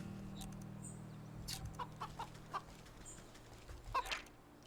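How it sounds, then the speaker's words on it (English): Chickens cluck in the game Wytchwood, several short, fairly faint clucks scattered over a steady low ambient hum, with a louder cluster of calls near the end. "Chickens."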